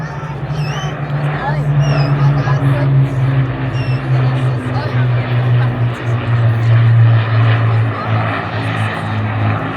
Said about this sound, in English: let's soak up the atmosphere of these 1 Griffin, 5 Merlin engines